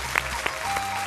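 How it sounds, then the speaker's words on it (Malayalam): Audience applause for a teacher on a Malayalam TV show stage, a short burst of clapping over a steady crowd background, fairly soft and brief. "മാഷിന് നല്ല കൈയടി."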